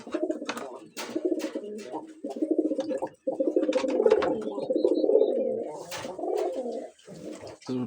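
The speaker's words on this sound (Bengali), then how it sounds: "প্রিন্স পাখিগুলো ডিম দিছে" Pet pigeons cooing in a loft where some birds are nesting on eggs, a close run of deep throaty rolling coos repeated in long phrases with short pauses and a few soft chirps between them.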